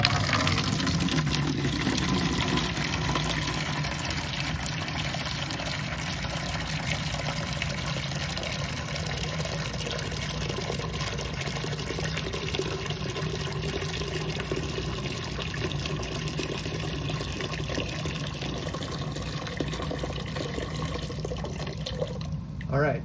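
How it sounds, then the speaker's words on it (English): Water drains steadily from a steam boiler during a test of its probe-style low water cutoff, a continuous rushing, pouring flow that holds at a fairly even level throughout. "we're going to drain some water out and see if the low water cutoff does its job"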